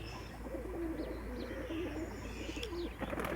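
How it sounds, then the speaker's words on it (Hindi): Pigeons coo repeatedly beside a net enclosure, their low, soft rolling calls recurring steadily over a constant background hum, with a few light chirps and a brief flutter near the end. "ये बड़े कबूतर हैं और बड़े जोड़े हैं जो आज़ाद रहते हैं"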